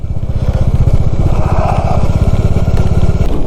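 A motorcycle descends a mountain road through tea gardens in steady rain on the way to Sikkim; the engine's rumble is loud, close and continuous for the whole stretch.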